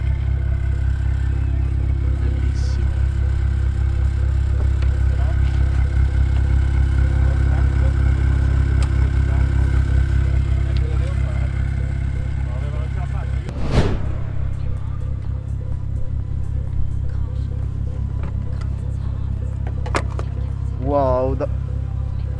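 Dallara race car with carbon-fibre bodywork, its engine running steadily in a loud low drone with a sharp burst partway through, while people talk nearby.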